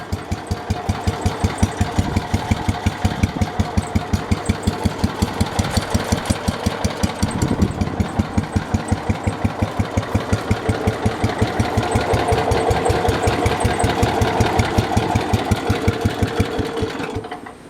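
A Cub Cadet lawn tractor engine idles steadily up close, a loud, even chugging pulse that continues throughout with a slight rise toward the end, with no one talking over it.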